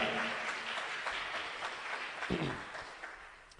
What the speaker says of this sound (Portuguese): Você pode aplaudir ao Senhor Jesus por esta palavra?